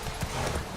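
Horse hooves clip-clop at a steady trot in The Witcher 3, the rhythmic hoofbeats close and fairly loud over a continuous game soundscape, with no talking.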